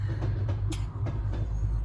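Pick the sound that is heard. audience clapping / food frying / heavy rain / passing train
passing train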